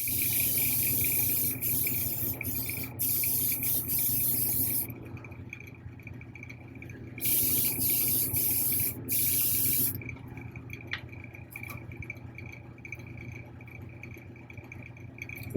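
Airbrush spraying a quick mist of paint over the horns and hands of a 1/4-scale Hellboy figure, a bright continuous hiss in two sustained bursts with short pauses, over a steady low compressor hum.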